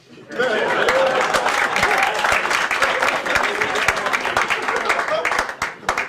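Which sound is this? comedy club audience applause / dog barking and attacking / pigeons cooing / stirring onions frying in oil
comedy club audience applause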